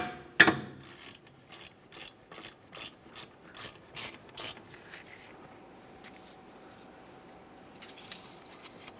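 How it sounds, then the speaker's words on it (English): A hand ratchet rapidly clicks while loosening the 15mm caliper bracket mounting bolts on a 2013-2020 Ford Fusion rear brake, starting with a sharp knock and then a regular run of about a dozen ratcheting strokes before fading to quiet shop ambience. "This is held in place with two 15mm mounting bolts. Remove the pair."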